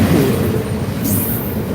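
A CSX freight train rolls past close by at night in Millbury, Ohio, a steady loud rumble of wheels on rail with a brief high squeal, no voices.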